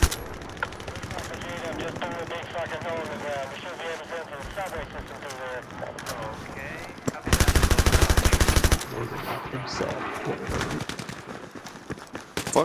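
Battlefield 3 gunfire: sustained machine-gun fire with rapid rhythmic bursts and one especially loud, dense volley midway, mixed with battle noise while players talk over it.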